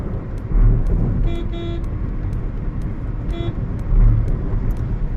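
A car cruises on the road at about 90 km/h, its engine and tyre rumble running steadily, with a few short horn toots from nearby traffic cutting in over the drone.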